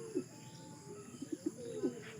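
Homing pigeons circling back during a truck-release training flight for a summer race, giving soft low coos in several short bursts over a steady faint background hum.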